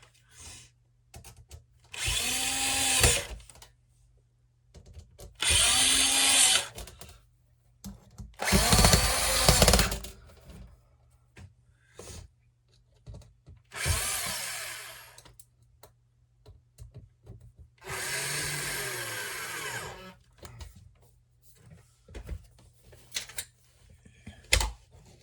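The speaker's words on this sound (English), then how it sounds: "Let's just start screwing these in the bottom first" A power driver runs screws into a vintage Lasko Premium box fan in several bursts of whirring, each a few seconds long, separated by small clicks and handling noises, close and fairly loud.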